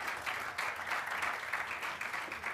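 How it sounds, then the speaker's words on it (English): Audience round of applause at a student athlete summit, steady distant clapping from a crowd, faint and continuous throughout with no talk. "So everybody give Jarrod a round of applause, please, as he comes forward."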